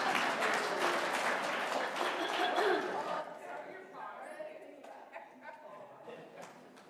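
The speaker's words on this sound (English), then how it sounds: "You can clap your hands." A church audience claps their hands, loud dense applause at first that thins and fades into scattered claps and quiet murmuring.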